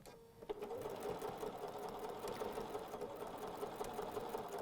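A sewing machine stitches a fabric pocket prayer quilt made from fabric panels, starting after a brief pause and then running steadily with a rapid, even needle rhythm, fairly faint and close.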